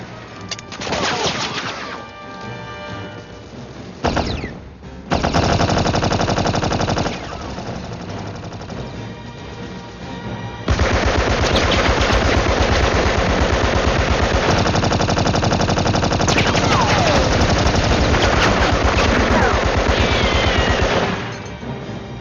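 Rapid, sustained bursts of gunfire in a mystery-adventure show, loud and continuous automatic fire with brief pauses and a few louder onsets, heard alone without talk.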